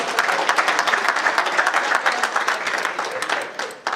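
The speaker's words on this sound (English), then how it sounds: "please can you join me to say thank you to them and give them a round of applause" A seminar audience on reward management gives a round of applause for the speakers: dense, steady clapping from many hands, loud and close, sustained for several seconds before tapering off.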